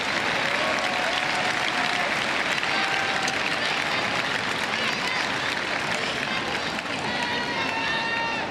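Sustained crowd applause and cheering at a Paralympic boccia bronze medal match in Paris 2024, loud and continuous throughout with a dense roar from the arena.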